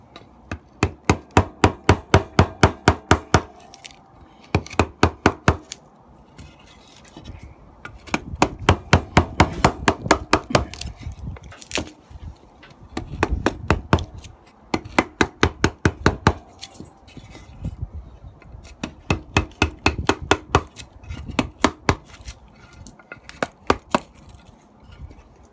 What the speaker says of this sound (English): I can actually move the chisel backwards, just so that I don't go straight into the bottom here